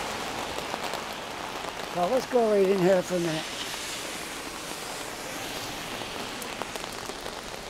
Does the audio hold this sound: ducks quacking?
no